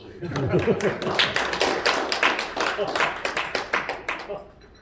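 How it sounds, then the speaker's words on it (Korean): Audience applauding a teacher at a Korean lecture on leadership speech, a dense round of clapping close by that rises into sharper, more rhythmic claps before fading. "선생님한테 박수"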